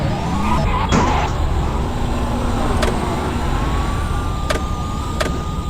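Tesla Cybertruck driving in the Car Crash video game, a steady engine drone with a rising whine and scattered sharp clicks, continuous and fairly loud throughout.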